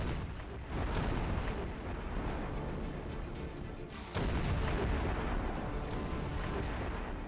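Dense, continuous roar of 152 mm self-propelled artillery guns firing, with booming bursts, loud and sustained throughout, with a sharp surge partway through.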